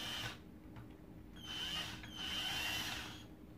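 A screw is driven into a Philips Marathon Ultimate vacuum floor nozzle with a powered screwdriver, which gives two faint, whining whirs against a quiet hum.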